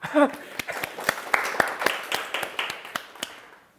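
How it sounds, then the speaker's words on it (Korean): Audience at a Korean Ubuntu home-server workshop in Busan claps with scattered, uneven hand claps that start sharply and thin out over a few seconds, moderately close, with a short voice at the very start. "박수 한번 할까요?"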